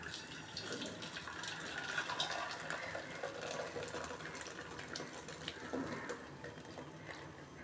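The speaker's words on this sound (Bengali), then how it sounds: "এর মধ্যে ছাঁকবো আমি ছানাটা।" Chhana cheese curds for rasgulla being strained in a home kitchen, with a steady running, gushing stream of liquid pouring through a strainer at close range, continuous and unbroken without talk.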